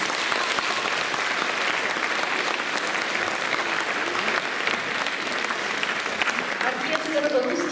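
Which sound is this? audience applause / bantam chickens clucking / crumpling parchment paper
audience applause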